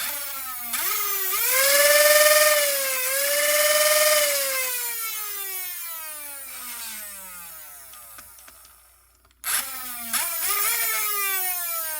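The small electric motor of a Dart Zone MK3 toy foam blaster whines up to a high pitch, wavers, then spins down to silence before revving up again abruptly, close and steady.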